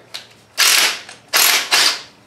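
A socket ratchet worked on beadlock wheel bolts, giving quick bursts of dense clicking in three main runs with short pauses between, close and loud, with no voice.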